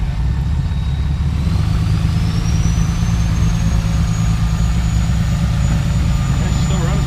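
An old Polaris engine running loudly at a steady high drone, with a rising whine over the continuous rumble.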